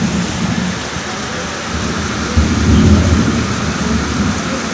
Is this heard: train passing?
no